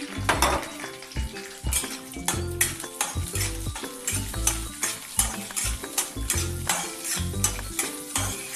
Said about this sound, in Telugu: నెయ్యి కరిగిపోయింది, జీడిపప్పు వేసేస్తున్నాను